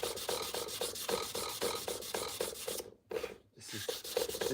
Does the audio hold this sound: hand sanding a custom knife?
yes